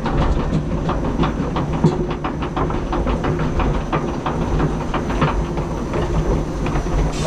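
A roller coaster ride on Toffifee Kopalnia Złota at Energylandia in Zator, Poland, heard from onboard as a steady rattling clatter of the cars on the track, with a continuous rumble and rhythmic clicks, loud and close throughout.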